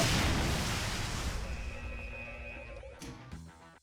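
A grenade explodes with a loud, deep boom in a modded Doom (1993) video game, and the blast fades into a long rumbling tail, followed by a faint shorter pop near the end.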